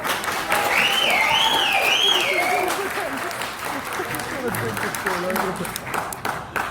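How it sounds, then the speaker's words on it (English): An audience at a public meeting claps steadily for several seconds, a dense wash of applause with a voice speaking over it. "A round of applause for this woman, please."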